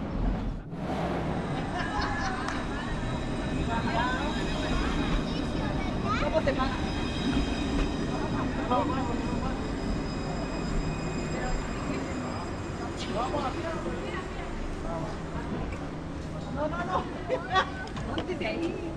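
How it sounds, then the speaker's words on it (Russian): A tram rolls in on the street in Santa Cruz de Tenerife during the Day of the Crosses, its steady rail rumble and squeals running under crowd chatter and nearby voices. "Трамвай уже подъезжает он."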